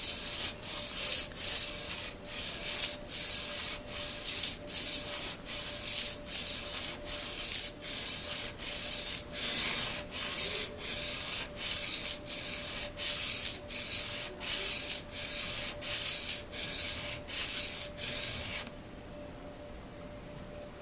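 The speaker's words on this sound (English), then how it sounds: "Okay, and to sharpen this side now." An old paring knife is drawn across a sharpening stone in steady, rhythmic rasping strokes, about one per second, before the strokes stop near the end, leaving a faint tone.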